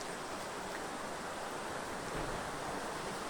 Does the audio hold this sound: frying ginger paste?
no